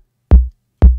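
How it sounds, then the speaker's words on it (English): Two separate kick drum hits, each a short punchy thump with the lowest lows and clicky top thinned out by EQ, spaced about half a second apart and heard alone. "First of all, I removed some of the low-end frequencies, around 150 to 200 hertz, and a bit of that clicky high-end over here."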